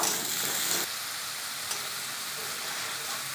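Spice paste with turmeric and salt sizzles steadily in a pan while a spatula stirs it. The frying is loud and continuous at close range, grows a little quieter after the first second and has no talking over it.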